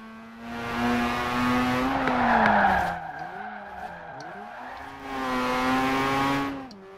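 2002 Mazda RX7 Spirit R Type A drifting in the Forza Horizon 4 racing game, its rotary engine droning at high revs, dropping and wavering through a slide with tyre squeal, then climbing again; loud and close, no talking.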